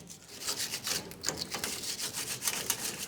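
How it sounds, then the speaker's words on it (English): A wire brush scrubs around the differential pan cover area of a 1999-2006 Chevrolet Silverado 1500 rear axle, giving quick, repeated raspy strokes at close range in an uneven back-and-forth rhythm. "We'll clean up the area. You can use a wire brush,"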